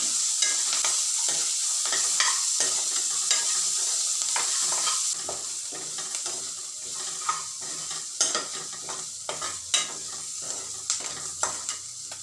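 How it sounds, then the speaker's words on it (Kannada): Green peas frying with a little salt in a pan for masala, giving a steady sizzle broken by repeated stirring scrapes and soft clinks throughout, with the sizzle easing slightly partway through. No voices are heard. "ಸ್ವಲ್ಪ ಉಪ್ಪು ಹಾಕಿ ಹುರಿತಾ ಇದ್ದೀನಿ."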